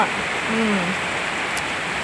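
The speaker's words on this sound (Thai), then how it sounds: "นอนฟังเสียงฝนฝนตก" Steady rain falling, a soft even hiss that stays constant throughout, with a brief low vocal murmur near the start.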